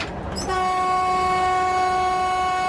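A train horn sounds loudly and steadily over the rumble of rail traffic, a long sustained blast close by.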